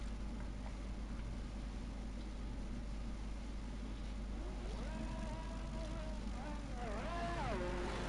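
A Ferrari Formula 1 car in the F1 25 video game heads out on track at the Japan round, a low steady engine hum that rises into several revving, gear-shifting climbs near the end under faint background noise.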